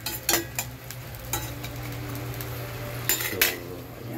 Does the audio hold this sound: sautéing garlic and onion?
yes